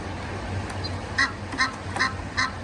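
An Egyptian goose and its young call on a damp slope, four short nasal quacks spaced about half a second apart over a quiet outdoor background.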